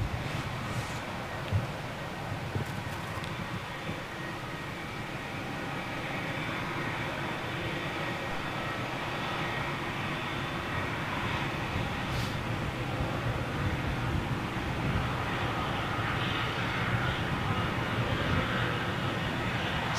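A Qatar Airways Dreamliner taxiing along a taxiway at London Gatwick, a steady low jet engine rumble and whine holding for the whole stretch at a moderate distance, with no talking.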